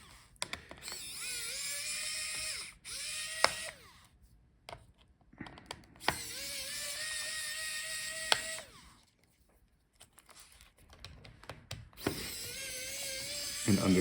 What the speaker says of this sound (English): I will take out the screws for the GPU also.